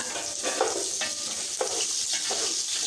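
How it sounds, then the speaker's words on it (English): Onions fry in hot oil in a pan for South Indian sambhar rice, with a dense, continuous sizzle and some stirring scrapes, close and with no talk. "Now you can add onions and fry them."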